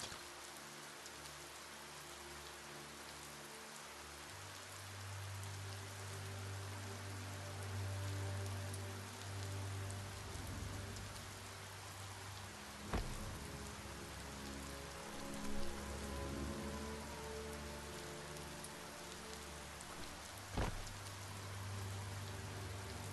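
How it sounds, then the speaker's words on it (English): Steady rain in the video game Biomutant, a continuous soft hiss of drops on surfaces with a low rumbling bed and a couple of sharp isolated taps, fairly quiet and without talk. "Might want to look for shelter from the rain."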